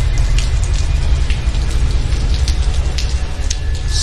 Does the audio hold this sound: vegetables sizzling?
no